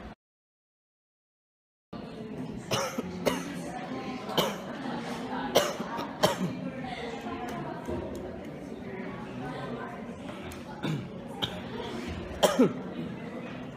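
Repeated coughing fits, sharp bursts scattered through the clip with quieter background chatter in between.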